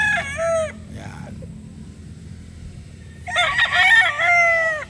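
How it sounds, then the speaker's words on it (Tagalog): A Boston Black gamefowl rooster crows twice nearby, a short call at the start and then a longer, louder full crow after a quiet pause, over faint background hum. "So ito po ay Boston Black mga sir."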